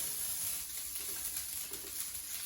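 Cheese melting in a hot stainless steel pan while making a carnivore cheeseburger chaffle, giving a steady, soft sizzle that runs unbroken throughout, with no talking.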